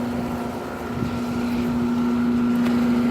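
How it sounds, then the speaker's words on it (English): A 2008 two-ton American Standard central air conditioner runs outdoors with a noisy fan motor, giving a steady loud hum and whooshing drone that holds constant throughout, with no talk over it. "Noisy fan motor."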